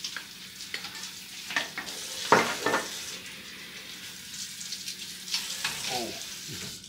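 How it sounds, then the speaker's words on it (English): Onions sauté in a pan in a cabin kitchen with a soft, fairly quiet sizzle, broken by scattered knocks and scrapes of stirring and pan handling. "We're sauteing onions"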